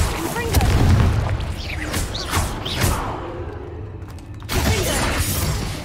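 Confringo fire-blast spells cast in the Hogwarts Legacy video game, several loud bursting blasts mixed with clattering mechanical combat sounds, a brief quieter lull, then another strong burst near the end.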